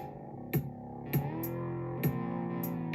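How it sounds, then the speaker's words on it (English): Sustained tonal drone from a Teenage Engineering OP-Z synth tape track, steady layered harmonics holding throughout with short bright clicks recurring about every half second, alone without talk. "find the pitch we want for our drone machine"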